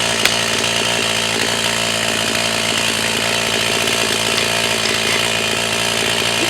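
An Echo CS 4500 chainsaw, recently revived after long storage, runs steadily and loudly throughout, a constant buzzing drone with no talking over it.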